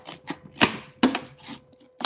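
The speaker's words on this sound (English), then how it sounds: "make a little cut and poke your scissors in" Scissors making a small cut into a squished plastic pop bottle, a handful of sharp crinkly snips and plastic crackles in an uneven rhythm, close and fairly quiet, with no talk.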